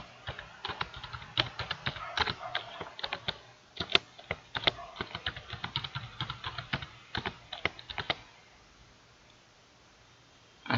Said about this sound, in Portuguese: Aqui eu vou digitar minha senha.